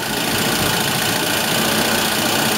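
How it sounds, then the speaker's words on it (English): A one-cylinder steam engine drives a gypsy winch in a steady, dense mechanical churn with a rapid knocking pulse, loud and continuous throughout. "And it's a one cylinder engine, it doesn't run itself."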